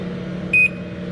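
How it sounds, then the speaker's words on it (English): A single short, clear electronic beep from a newly installed garage door opener as its black center button is held, sounding once against quiet background hum. "So start out right now, hit the black center button and hold it. You'll hear it beep."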